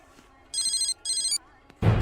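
A telephone in a Telugu action film scene rings with two short, bright electronic trills, closely miked, followed by a sudden burst of noise.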